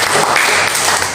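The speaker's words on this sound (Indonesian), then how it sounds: "Tepuk tangan dulu." Congregation clapping during a church service held in a Jakarta apartment, a dense steady patter of many hands filling the whole moment at close range, loud and continuous.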